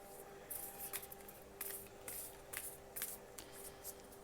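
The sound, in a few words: shuffling cards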